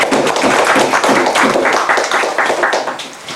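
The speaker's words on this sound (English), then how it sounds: "let us give a big applause to Wolfgang Nowak." Audience at a seminar on North Korea breaks into dense, sustained applause for an introduced guest speaker, loud and steady throughout before tapering slightly at the end.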